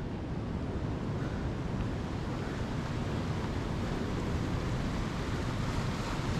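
Ocean waves crash against the coastal rocks of Cathedral Rocks at Kiama Downs, NSW, in a continuous loud roar of surf mixed with wind buffeting the microphone.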